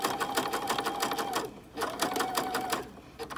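A sewing machine stitches along the hem of a uniform skirt in two quick runs of rapid, even needle rattle separated by a short pause, close up and steady.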